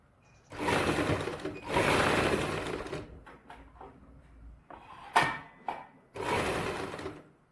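Sewing machine stitching a side- and centre-cut suit, running in several short bursts of whirring of a second or so each, separated by pauses filled with clicks and handling noises.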